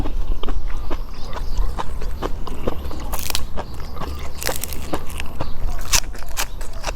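Close, crunchy chewing of Thai mixed beef offal, including fresh liver, eaten with a bitter jaew dipping sauce; wet bites and crunches repeat steadily for several seconds.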